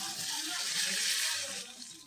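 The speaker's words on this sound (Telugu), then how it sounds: "ఇప్పుడు నీళ్ళు పోసుకుందాం." Water poured steadily from a small vessel into a cooking pot, a bright continuous splashing gush heard up close for about two seconds with no talk.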